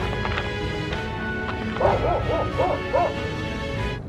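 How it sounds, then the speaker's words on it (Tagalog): Several short yipping dog barks in a quick cluster, fairly distant, over a steady background hum and outdoor noise in the Saudi Arabian desert. "may narinig ng mga aso"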